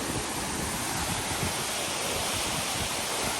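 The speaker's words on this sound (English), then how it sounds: "and that's the waterfall." A steady roar of rushing, falling water from a waterfall at the Coniston copper mines fills the whole clip, broad and constant with no voices.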